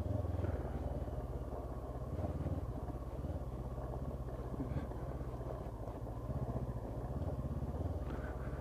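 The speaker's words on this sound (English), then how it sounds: "Try some slow riding around the place. Keep the body straight, lean the bike." A Honda CB500X motorcycle rides slowly over rough off-road ground, its engine a steady low rumble heard close, at moderate level, with no talking.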